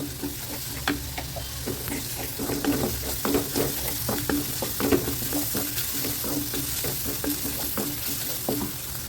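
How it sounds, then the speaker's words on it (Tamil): Turmeric, chilli powder and coriander powder sautéing in hot oil, a constant close sizzle punctuated by regular scraping stirs of a spoon against the pan. "மஞ்சத்தூள் தனி மிளகாத்தூள் மல்லித்தூள் எண்ணெயிலே இதை வதக்கலாம்"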